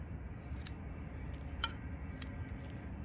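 Scissors snip into an inch-thick plant root ball during repotting, giving a few faint, sharp cuts spread over a low, steady background rumble, with no talking.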